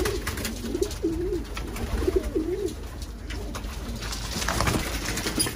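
Breeding pigeons give soft repeated cooing calls close by, with a faint rustle of movement and steady background noise.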